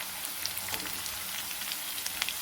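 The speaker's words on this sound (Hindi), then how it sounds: "लहसुन और अदरक के साथ ही हमने जीरा भी डाल दिया।" Garlic ginger paste and cumin seeds frying in a pan, a steady close crackling sizzle with tiny pops, continuous and alone without talk.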